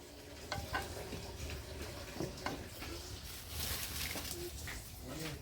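Dried fish and sweet pumpkin greens cook in a pan without oil, giving a soft sizzle broken by intermittent stirring clicks and scrapes, with faint outdoor bird calls in the background.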